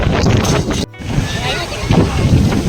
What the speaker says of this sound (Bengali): কি মাত্রায় হাওয়া দিয়েছে